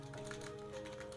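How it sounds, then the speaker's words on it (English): Quick taps on the keys of a Dell PC keyboard that won't work, a few light clicks over a steady tonal hum, brief and close. "You can tell by me trying to get the keyboard working."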